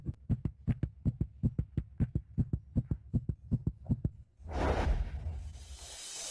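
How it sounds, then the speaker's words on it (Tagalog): A dramatized heartbeat effect thumps in a fast, steady double rhythm, about twenty beats close and clear, then gives way to a swelling whoosh of noise at the end. "Ang bilis ng tibok ng puso ko."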